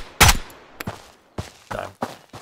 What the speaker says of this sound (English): Oh, being shot at again.